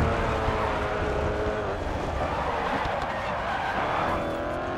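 An Audi RS 5 in a street race in Paris in the GRID Autosport video game, its engine a constant buzzy roar mixed with tire squeal and skidding, loud and continuous throughout.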